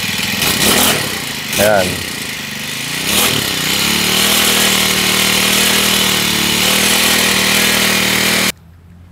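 Small Honda GX35-clone grass cutter engine, being repaired for a clutch problem, revs up loud and steady for several seconds after a brief voice, then cuts off abruptly.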